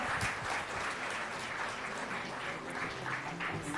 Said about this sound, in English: Maybe have a warm round of applause for her